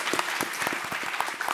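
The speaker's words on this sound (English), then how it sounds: "So I would like us all to just give each other a round of applause." Audience applause at the close of a panel discussion, a dense, steady spread of clapping hands filling the whole short stretch without voices.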